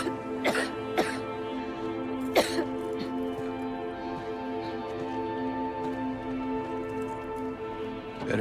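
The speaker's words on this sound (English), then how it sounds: "Better do something about that cough." Character in the Silent Hill 2 Remake game coughing in several sharp bursts, scattered irregularly over a steady tonal hum in a quiet game scene, with no talk.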